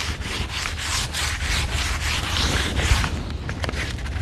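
Black 220-grit sandpaper rubs back and forth across a wooden staircase in a steady series of close, rhythmic scratchy strokes, with no one talking.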